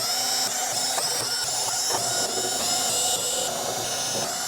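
A power driver backs metal perimeter screws out of the back cover of a Hisense 55H8F television, making a continuous close, high whirring with faint clicks and shifts in pitch.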